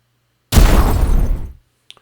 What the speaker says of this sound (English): Destroyed explosion for the flying buzzer.